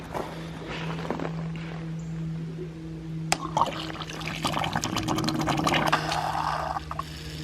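Water rushes through an opened valve into a vertical ram pump drive pipe under about ten feet of head, a steady flowing wash with gurgling and splashing that builds, plus a few sharp knocks and clatter.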